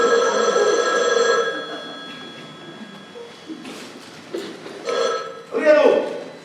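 A telephone rings near the start with a short tonal trill, then voices and faint room noises take over.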